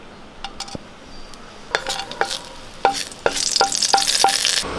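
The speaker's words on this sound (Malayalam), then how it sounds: "ഒരു രണ്ട് സ്പൂൺ വെളിച്ചെണ്ണ ഒഴിച്ച് കൊടുക്കാം ഇതിലേക്ക് നമുക്ക് രണ്ട് ചെറിയ പീസ് പട്ട ഇട്ട് കൊടുക്കാം" Cinnamon, cardamom and cloves sizzle in a couple of spoons of hot coconut oil for an egg masala curry, a steady frying hiss broken by sharp clinks and scrapes of a spoon stirring the pan, close and clear.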